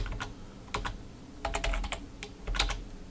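Typing on a computer keyboard, close and quick, with bursts of sharp key clicks separated by short pauses and no voices.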